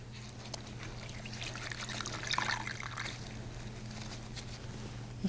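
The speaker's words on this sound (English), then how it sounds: "I can put all 4 washcloths into the water." Four washcloths go into a basin of water during a bed bath, giving a soft splashing trickle over a steady low room hum, with a slightly louder swell midway.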